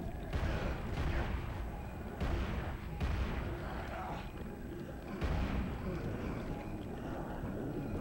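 Explosions in the video game Dark Sector: heavy, rumbling booms recur several times over a continuous low roar, loud and close.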